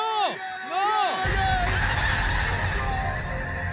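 A large flock of snow geese honks loudly and close, with a few distinct rising-falling calls at first, then a dense overlapping clamour and the rush of many wingbeats.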